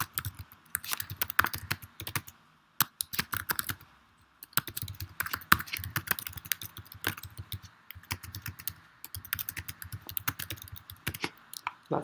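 Someone types quickly on a computer keyboard to fill in a form, producing dense, close bursts of key clicks with a couple of short pauses between runs.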